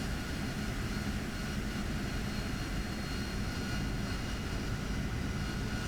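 An AV-8B Harrier jet engine throttles down in the DCS flight simulator, a steady broadband roar with a faint whine holding at an even level throughout, with no talking.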